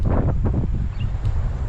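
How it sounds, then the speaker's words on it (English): Wind gusts outdoors at a war memorial cemetery at Kranji, buffeting the microphone with a low, uneven rumble that swells and eases over a moment, with no speech. "The wind is blowing."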